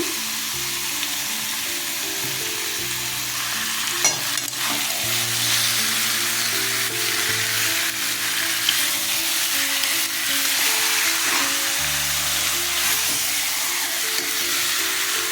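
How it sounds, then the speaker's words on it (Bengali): Chicken sizzles steadily in a pan as raw mustard oil goes in, with loud continuous frying crackle and occasional stirring scrapes beneath a soft background melody, no talking. "একটু কাঁচা সর্ষের তেল দিয়ে দিচ্ছি।"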